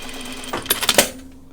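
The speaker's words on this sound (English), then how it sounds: "So just sew it where it intersects." A sewing machine stitches a seam on a pajama top in a short burst of rapid mechanical needle clatter, close by over a steady motor hum, then settles back to the quiet hum.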